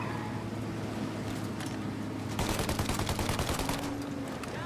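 Gunfire in Mafia: Definitive Edition, a rapid burst of automatic shots beginning midway over a low rumbling background, fairly distant and muffled, with no voices.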